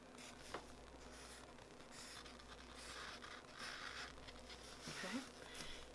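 Faint pencil or pen scratching on paper as shoe sole texture is sketched in, with soft irregular strokes and light rubbing, heard up close with quiet speech-like murmurs in the background.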